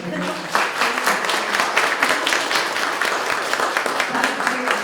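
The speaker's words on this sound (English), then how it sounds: "let's just give a round of applause" Audience at a talk with a creative founder breaking into applause, steady dense clapping from a room-sized crowd sustained for several seconds with faint voices beneath.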